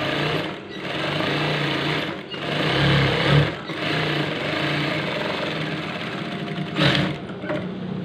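A sewing machine stitches the collar of a PDH uniform shirt, running in a steady, close whir with several brief pauses and restarts across the stretch.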